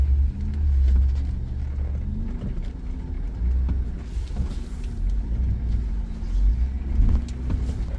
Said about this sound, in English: waiting for the other vehicles to pass by before we retook the trail.